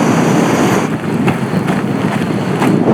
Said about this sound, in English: the wind seems to have calmed down a little bit right where I am now